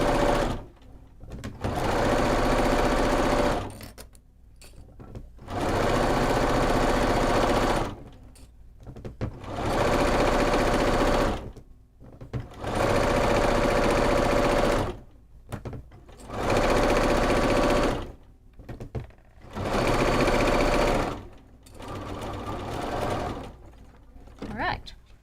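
A sewing machine stitches quilt pieces together at a 2.5 stitch length, running in repeated bursts of steady whirring separated by short pauses, with a voice speaking in between.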